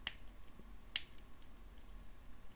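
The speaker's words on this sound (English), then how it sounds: "And now we're going to snip off the excess." Small cutters snip excess wire on a double strand charm bracelet, a single sharp click standing out against quiet room tone, with a fainter tick just before it.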